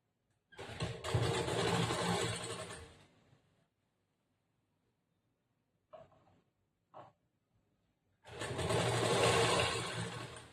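Sewing machine stitching a seam on a blouse, two loud close bursts of fast whirring at the start and end, with a quiet gap broken by a couple of brief clicks.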